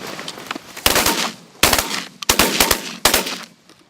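Gunshots ring out during a goose hunt, a burst of several loud, sharp shotgun blasts in quick succession with short gaps between volleys.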